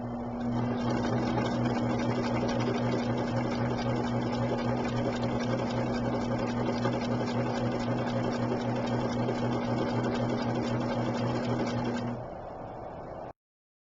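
Domestic sewing machine running steadily while stitching quilt block pieces for a Dutch Rose block, a continuous close mechanical whir with a steady hum, stopping near the end.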